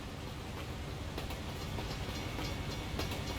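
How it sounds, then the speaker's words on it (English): A train rolls past in American Truck Simulator near Fayetteville, North Carolina, a steady loud rumble of railcars with faint clickety-clack, heard alone without talk. "There's a train going by."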